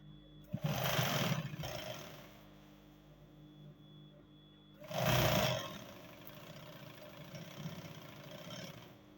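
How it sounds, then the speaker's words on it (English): A sewing machine stitches cargo pants fabric in two loud bursts, one short and one longer, separated by a quieter stretch. "So this is it, and I will just start sewing."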